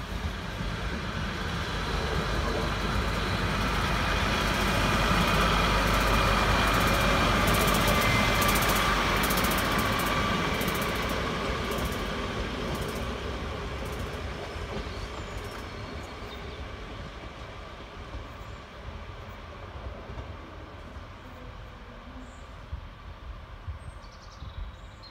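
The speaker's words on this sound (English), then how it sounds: "It is the previous 153 unit that we saw coming in from earlier on." Class 153 diesel unit 153438 rumbles steadily past Lancaster station on its way to Barrow, a loud sustained rolling roar with engine drone that peaks early and slowly fades over about twenty-five seconds, no voices.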